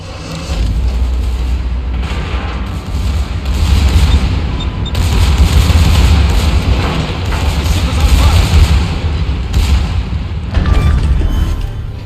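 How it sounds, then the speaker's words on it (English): Battleship secondary guns firing in World of Warships, a German tier XI tech-tree battleship Hannover engaging an enemy ship; dense, continuous rapid booms and crackling gunfire fill the scene, loud and sustained. "There go the secondaries at the Schroeder."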